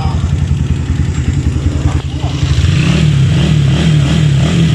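Close Honda CG160 motorcycle engine with programmable TBI fuel injection idling with a choppy, clattering pulse, then revved up into a louder, steadier drone that holds to the end.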